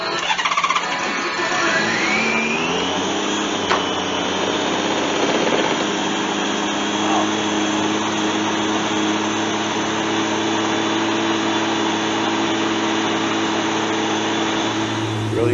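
A Honda GL1500 motorcycle engine starts and revs up, then settles into a steady, loud drone with a high whining tone while the alternator output is checked, heard up close without talk.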